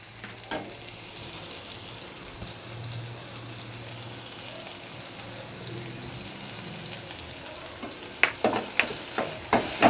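Tomatoes sautéing in a pan for a sea mantis curry give a steady, close frying sizzle that runs throughout, with a few sharp clicks and spatters near the end.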